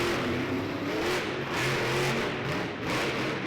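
The Gravedigger monster truck's engine revs in a Baltimore arena, a loud rolling roar that rises and falls in waves, with a crowd-filled background and no clear talk.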